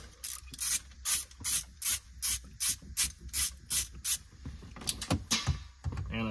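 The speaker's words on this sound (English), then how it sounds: "I'm going to spray these bolts down with some WD-40" Repeated short bursts of WD-40 aerosol spray hiss onto car transmission bolts in a steady rhythm, about a dozen quick squirts close up, with a few metallic clicks near the end.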